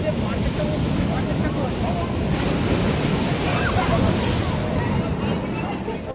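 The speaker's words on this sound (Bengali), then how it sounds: "সমুদ্র মারাত্মক উত্তাল হয়ে গেছে, বড় বড় ঢেউ আসছে" Big rough sea waves crash onto Old Digha beach at night, a dense roaring surf with wind rumbling across the microphone and a faint murmur of people in the background, loud and continuous throughout.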